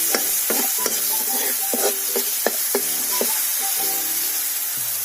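Sour leaves and turmeric stirred in hot oil over a village wood fire, a steady sizzle broken by repeated scraping strokes of the spoon, close and fairly loud, with no talking.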